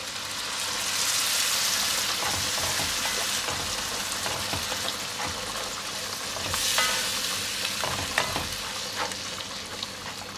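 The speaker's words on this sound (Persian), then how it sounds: "حالا من این گوجهی که رنده کردم بهش اضافه میکنم." Grated tomato goes into a hot pan of frying onion mixture for Iranian lentil dal and is stirred, giving a steady loud sizzle that swells as the wet tomato hits the oil, with spoon scrapes and clinks throughout.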